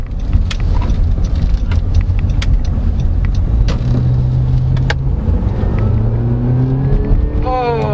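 Engine of a 2014 Honda Accord 2.4 four-cylinder sedan with a CVT, in sport mode, heard from inside as a loud continuous rumble. The engine pulls higher toward the end as the car accelerates, with occasional clicks and taps.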